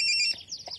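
An incoming call ringtone on a phone in a dramatic family argument scene, a short bright electronic chime close and clear, fading out under a brief rustle.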